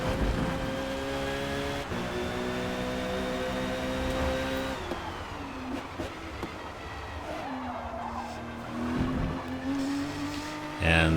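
A Porsche race car on worn tires in Forza Motorsport at VIR revs loudly with a steady engine drone, then shifts and drops in pitch while tires squeal and skid through corners. The sound is close and continuous.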